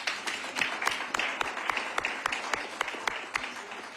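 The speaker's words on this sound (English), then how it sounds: "I would highly recommend a round of applause for Kate Haygood" A round of applause at a hospital authority board meeting, with scattered individual claps and some louder ones standing out against a moderate patter from a small group in the room.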